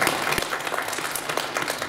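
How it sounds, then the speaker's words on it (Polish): Brisk applause from spectators at a county youth football tournament final, welcoming the medical staff, a dense and steady patter of many hands heard alone at moderate loudness. "Wielkie brawa."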